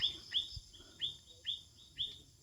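Birds chirp on a rural farm lot planted with coconut trees, giving five short, bright tweets at a steady rhythm, fairly close and clear over quiet low background noise.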